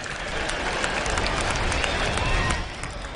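A large crowd applauds steadily at a Mashujaa Day celebration in Ithookwe Stadium, Kitui County, Kenya: dense, continuous clapping that fills the space, then fades slightly at the end.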